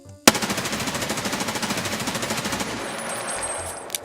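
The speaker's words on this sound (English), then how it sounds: "For recoil, we're going to do the no control test, and we're going to shoot this dummy over there." A video game gun fires one continuous rapid burst at a target dummy with no recoil control, the shots fast and evenly spaced, loud and close, followed by a brief ringing tail and one final click.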